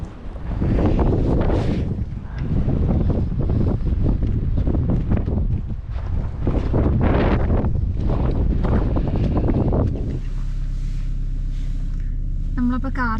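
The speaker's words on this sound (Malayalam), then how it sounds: "ഇന്ന് എക്സ്ട്രീംലി കാറ്റ് കൂടിയ ദിവസമാണ്" Strong gusty wind after a snowstorm near Niagara Falls, loudly buffeting the microphone with roaring bursts, with voices mixed in, then dropping to a steady low hum near the end as if sheltered inside a car.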